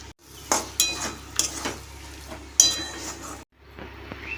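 Chicken mince and pointed gourd being sautéed in a pan, with several sharp metal spatula clinks and scrapes against the pan in an irregular rhythm over a faint sizzle, close and fairly quiet, no talking.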